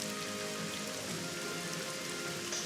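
Light rain sprinkles onto the sand floor of a colosseum arena, a steady, even hiss of fine drops that continues without a break and without any voices.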